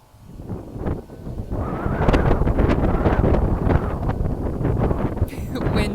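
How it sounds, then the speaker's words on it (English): Wind blows across the microphone in steady, loud rumbling gusts, buffeting continuously up close for several seconds. "Wind for confirmation."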